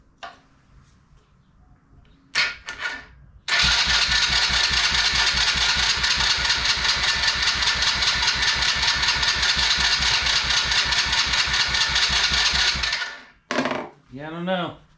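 Chinese kid quad with choke on cranks briefly, then its small engine starts and runs loud and steady for about ten seconds before cutting out, with a few knocks around it.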